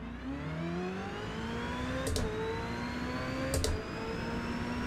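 A Ferrari engine in the Forza racing game revs quickly, rising and falling in pitch under a steady whine, with a couple of sharp clicks near the middle, and no one speaking.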